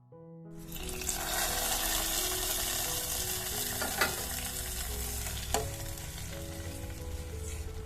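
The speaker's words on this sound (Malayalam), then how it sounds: "നെയ്യ് ഒന്ന് ചൂടായി വന്നതിന് ശേഷം അതിലേക്ക് ബാദാം കട്ട് ചെയ്തതാണ് ചേർത്ത് കൊടുക്കുന്നത്" Chopped almonds hit hot ghee and burst into a loud, even sizzle that crackles on close by, with a couple of sharper pops, while faint steady tones run underneath.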